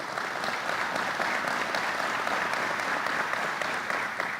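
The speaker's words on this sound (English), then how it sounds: "Let's give her a round of applause" Sustained applause from an audience at a governor's public bill-signing event: dense, even clapping that holds steady throughout without fading.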